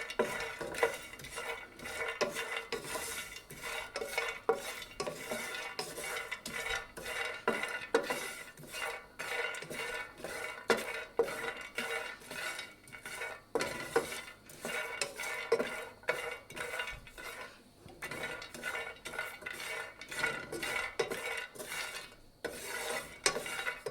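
Walnuts roast in a pan as a spoon stirs them, producing a steady, dense run of rattling scrapes and clatter under a faint sizzle, with no speech.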